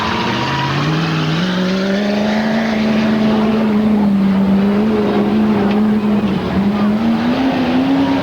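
A race car at a 1991 Norway Pines race roars past at full throttle, its engine drone rising and holding high and loud, with crowd and track noise underneath and a voice talking faintly.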